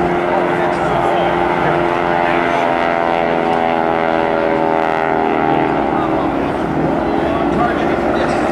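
Propeller aircraft of the GEICO Skytypers team flying a low bomb-run pass at the Jones Beach Airshow, a steady loud droning engine roar held throughout with a faint announcer voice beneath.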